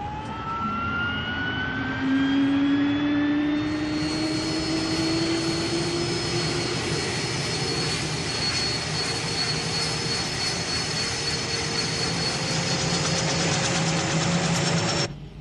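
A jet aircraft engine spools up aboard a warship, a loud rising whine with climbing tonal pitches that settles into a steady, roaring hum.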